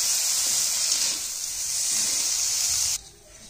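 Peanut chutney sizzles in a hot pan after a splash of water, a steady broadband hiss running for about three seconds before cutting off sharply and dropping to a faint residual sizzle.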